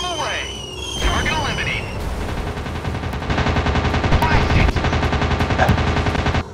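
A WW2 warplane's own gun fires in air combat gameplay: after opening engine and whistling sounds, dense, continuous rapid machine-gun chatter starts and grows louder, mixed with booms and a voice talking over it.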